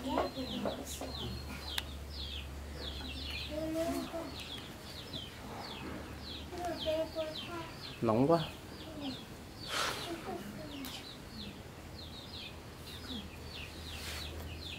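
A few chickens cluck and call intermittently in a rural yard, scattered bird chirps and a low motor hum in the background, with people speaking at moments.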